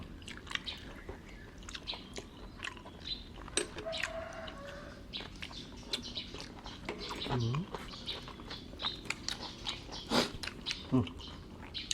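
Birds call outdoors with scattered short chirps and clucks, fowl-like, mixed with nearby chewing and people talking over them during a breakfast of spicy cucumber salad and grilled pork.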